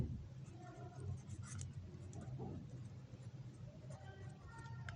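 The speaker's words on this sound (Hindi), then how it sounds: "मैं मार्कर से ज़रा लिख दूँ, बाय बैलेंस कैरी डाउन" A marker squeaks and scratches across paper as figures are written into a triple column cashbook, a faint close scribble in short strokes over a low steady background hum.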